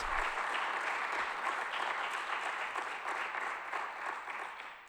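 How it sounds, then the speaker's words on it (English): Sustained applause from a conference audience at an informatics education meeting, a steady even wash of many hands clapping for the full five seconds, fairly distant and without voices. "I would like to ask you an applause for her"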